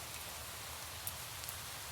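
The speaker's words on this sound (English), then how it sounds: "And the rain hitting us rather coldly." Cold rain falls outdoors as a faint, steady, even hiss with a couple of brief soft drop ticks, and no voices.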